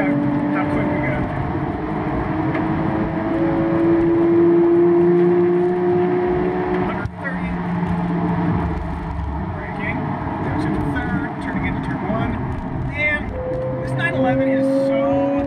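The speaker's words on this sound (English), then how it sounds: "Blasting along the front straight. Let's see how quick we go." A 2015 Porsche 911 Carrera GTS accelerates down a track straight, its engine droning and climbing steadily under wind rush, with a brief break mid-run and talk over the top.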